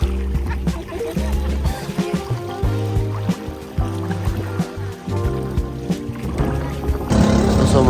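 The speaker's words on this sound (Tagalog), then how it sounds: "So sumakay na kami dito ng bangka at super saya." A motorboat engine drones steadily with water splashing along the hull near Cagbalete Island, and a voice can be heard briefly under the noise.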